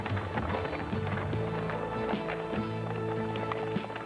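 Pack horses on a 1977 mountain expedition, hooves clopping in a steady rhythm at moderate distance over a low rumbling music-like bed, no talk.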